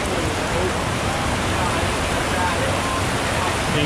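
Heavy rain pours down in Kuala Lumpur, a dense, steady hiss of falling water that fills the whole clip at constant loudness with no break.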